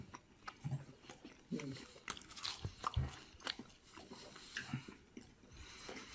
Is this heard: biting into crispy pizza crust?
yes